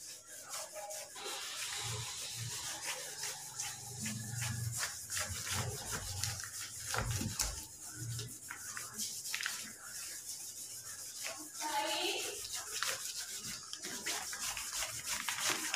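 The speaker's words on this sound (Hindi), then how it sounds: "अब स्पेस नहीं है इसलिए मैं इसको रब कर देता हूँ" Writing being rubbed off a board during a maths lesson, a steady scratchy scrubbing in repeated back-and-forth strokes, fairly quiet and close, with no speech over it.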